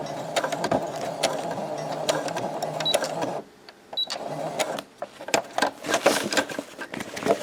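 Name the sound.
sewing machine stitching forward and reverse on a lunch bag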